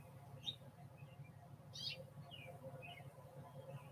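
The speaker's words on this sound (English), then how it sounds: "we got some birds in the background here." Small birds outdoors in Bend, Oregon give a few faint, scattered chirps over a low steady background hum.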